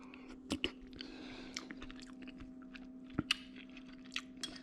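Close, soft chewing and crunching of a spoonful of rustic Italian soup with smoked sausage, potatoes, sage, thyme and oregano, a few sharp wet bites standing out over a low steady hum, with no talking.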